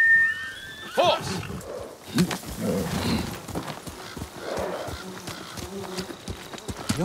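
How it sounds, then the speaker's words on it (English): A horse in the video game Ghost of Tsushima gives a sharp, high whinny at the start, followed by hoof clip-clop and game sounds, with voices talking intermittently beneath. "Horse!"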